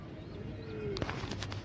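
Pigeons at a rooftop pigeon house during tournament flying give faint, soft coos that drift over a quiet, hissing background, with a couple of short sharper calls near the end.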